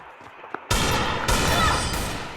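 Sudden loud bursts of gunfire from the Free Fire video game, a single sharp crack followed by a sustained volley and then another burst, close and dominant.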